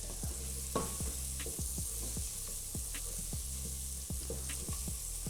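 Masala sauce frying in a pan for a Kenyan grilled chicken dish, a steady close sizzle broken by regular stirring scrapes of the spoon about every half second.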